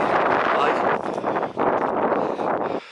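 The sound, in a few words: wind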